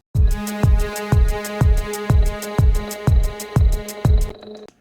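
A punchy kick drum thumps in a steady beat, each hit layered with a bright high-frequency synth impact made in Serum that rings out over roughly eight repetitions.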